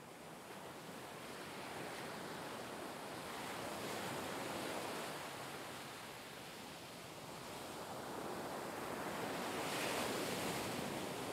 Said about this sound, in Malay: tenangnya bunyi laut ni. Rindu betul bunyi dia dengan tiupan bayu di tepi pantai.